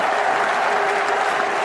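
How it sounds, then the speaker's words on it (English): A cricket crowd at a 2005 Australia versus Bangladesh one-day match claps for a young Bangladesh batsman, dense, steady applause filling the ground throughout. "Gets the full applause of the crowd all round"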